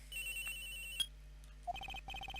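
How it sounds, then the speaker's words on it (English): Inside the Phoenix Wright: Ace Attorney – Trials and Tribulations game, a cell phone rings with a quiet electronic ringtone: a sustained tone, then a quick run of repeated chirping notes in two bursts. "I received a call on my cell phone"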